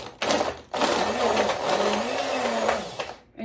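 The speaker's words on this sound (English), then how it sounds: "Hamilton Beach little blender." A small Hamilton Beach blender crushes ice with milk in short pulses and then a longer run, a loud close whir full of crunching chunks that cuts off briefly between bursts.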